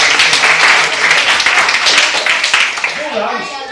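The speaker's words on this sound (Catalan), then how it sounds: "un aplaudiment per a Maria" A workshop group applauds a participant named Maria, loud close clapping from a modest crowd that fades toward the end as a voice begins speaking.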